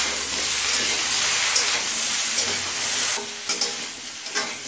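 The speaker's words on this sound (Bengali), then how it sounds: "এবারে সব সবজিগুলো কিছুক্ষণ সময় নিয়ে ভেজে নেব।" Mixed vegetables tossed with salt fry in a pan, giving a steady close sizzle with occasional scraping stirs and a few sharper knocks toward the end.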